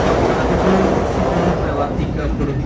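The Manahan passenger train departs Yogyakarta station with a loud, steady rumble of wheels and carriages close by, continuous for the few seconds.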